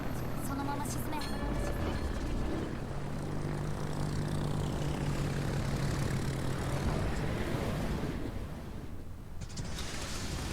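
Propeller-driven torpedo bomber aircraft drone steadily overhead in a naval video game, with a continuous engine roar and rumble that runs beneath someone talking throughout.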